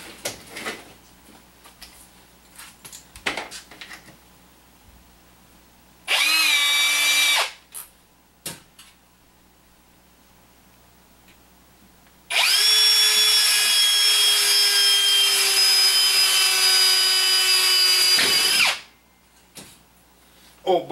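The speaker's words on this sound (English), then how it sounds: "drill a pilot hole, but I'm going to drill a pilot hole through both" A power drill with a 5/64 bit bores pilot holes for a box fan filter holder, running in two loud whining bursts, a short one and then a longer six-second run, separated by quiet handling clicks.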